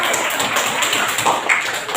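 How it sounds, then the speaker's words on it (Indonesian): A classroom of students claps for a classmate, a steady patter of applause filling the room, fairly loud and continuous without talk. "Tepuk tangan, aplaus buat Ibnu"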